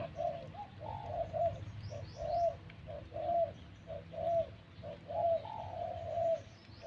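A wild bird with a medium-to-large voice calls near a house, its soft cooing phrases repeating in a steady rhythm, fairly close but quiet, with no talking.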